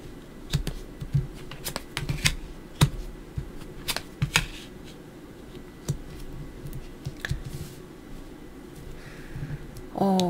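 Tarot cards are handled and laid out on a table: crisp snaps, flicks and soft slides arrive in irregular bursts, close and clear with no talking.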